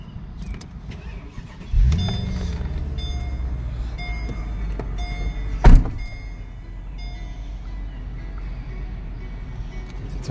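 A 2012 Mercedes SL550 with the top up, driving with a steady low engine and road rumble from inside the cabin, marked by a couple of sharp knocks or clunks.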